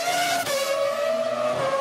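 A high-pitched V10 engine of a Renault R25 Formula One car screams steadily past on the Abu Dhabi circuit, loud and continuous, its pitch dipping slightly as it goes by.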